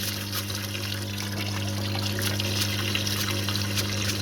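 Parts washer pump circulating a murky oil degreaser in a camper van workshop, a steady trickling and splashing flow over a constant low pump hum, close and even throughout.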